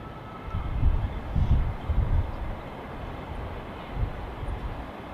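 An aircraft taxis out at Manchester Airport. Its low, distant engine rumble swells and fades in slow waves, with no voices over it.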